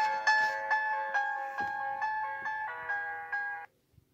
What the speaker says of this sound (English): As you can see, it's ringing.